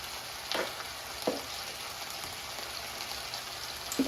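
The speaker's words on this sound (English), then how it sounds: "now the oil is sizzling" Oil sizzles steadily in a pan with a constant crackling hiss and a few sharper pops, close up, with no voices.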